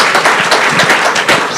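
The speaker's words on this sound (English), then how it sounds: "round of applause, please" An audience at a security forum gives a brief round of applause, a short burst of close, uneven hand clapping.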